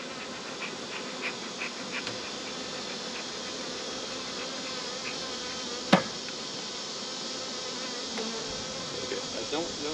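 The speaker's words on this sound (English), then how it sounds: "There's a lot of bees." Honeybees in a hive drone in a dense, continuous buzz, close and steady, with one sharp knock partway through.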